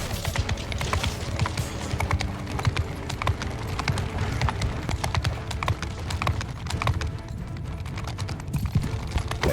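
Galloping horse hooves in Mount and Blade II: Bannerlord with the Old Realms mod: a dense, rapid clip-clop rhythm of many hoofbeats, loud and close, amid battle clatter, with a faint hint of whinnying.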